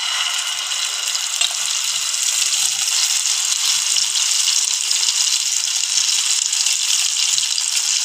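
Oil spooned into a hot pan for a quick children's tiffin dish with egg sizzles in a continuous, even hiss that holds steady and close throughout, with no voices.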